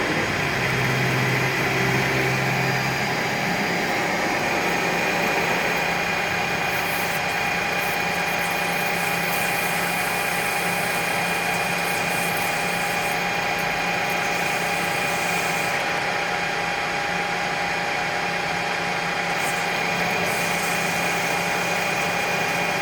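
A lathe running steadily while a parting tool cuts off a part, a constant mechanical whine and hum with a faint grinding texture, loud and unbroken throughout.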